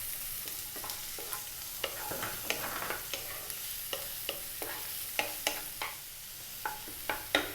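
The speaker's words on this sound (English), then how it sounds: "we're going to go in with the 1 cup of onion, and we're going to go for 3 minutes." A cup of onions frying in oil in a pan, a soft continuous sizzle punctuated by regular light clicks and scrapes of stirring.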